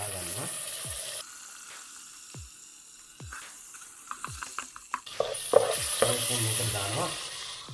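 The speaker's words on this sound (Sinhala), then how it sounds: "අපි මේකට බටර් චුට්ටක් දාගන්නවා." Butter sizzles and crackles in a hot pan while a utensil scrapes and stirs in bursts. Knocks and clatter grow louder toward the end, with no talking.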